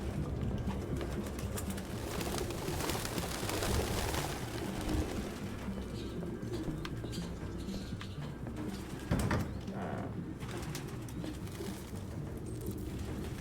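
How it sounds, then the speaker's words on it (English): A crowd of pigeons coos softly and continuously in a scene from Detroit: Become Human, with low, overlapping calls and faint rustling over a muffled ambient background. "This is an unreasonable amount of birds."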